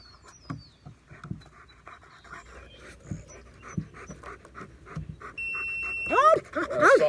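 A dog panting and giving short sharp barks during a bark-at-target training exercise, close by, with a high electronic beep-like tone toward the end.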